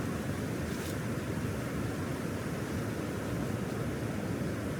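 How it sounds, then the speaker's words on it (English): Fast river rapids rushing past a riverbank, a steady broadband roar of moving water, constant and fairly faint, with no voices. "the fast water keeps rushing past, carrying leaves and small debris downstream"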